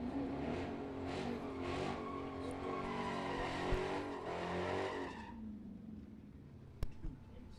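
A Hellcat Charger launches down a drag strip at a Super Pro bracket event. Its engine roars loud and rising with tire squeal for about five seconds, then fades away, with a track announcer audible around it.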